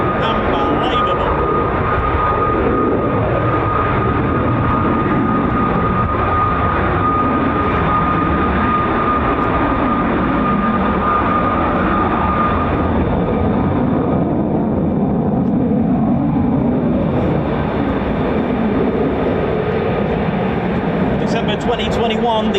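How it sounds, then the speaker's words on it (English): An F-15 fighter jet of the 48th Fighter Wing flies over RAF Lakenheath, making a continuous loud roaring rumble that swells and shifts while people talk nearby. "F-15, such an amazing aircraft."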